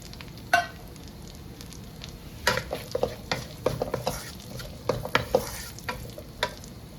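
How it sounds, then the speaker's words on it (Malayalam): Finely chopped onions frying in oil in a pan make a soft, continuous sizzle under close, uneven spatula scrapes and clinks against the pan, coming in quick clusters. "രണ്ട് ചെറിയ സവോള കൊത്തി അരിഞ്ഞത് ഇതിലോട്ട് ഇട്ട് കൊടുക്കാം"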